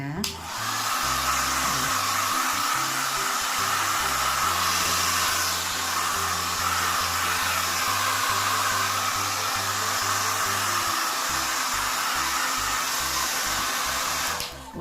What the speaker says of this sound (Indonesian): keringan pakai hair dryer